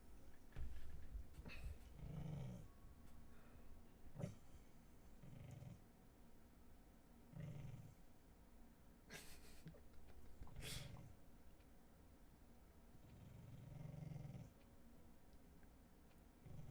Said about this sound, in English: You guys hear my dog?